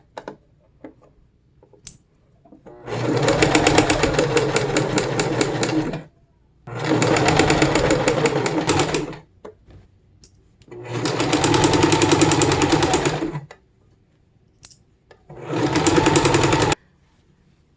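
A sewing machine stitches fabric for a medieval Skjoldehamn-style Viking hood, running in four steady mechanical bursts of a few seconds each, separated by brief pauses with faint handling noises, close and without talk.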